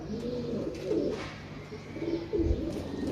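Pigeons cooing close by, soft throaty rolling coos repeating in a low, steady murmur.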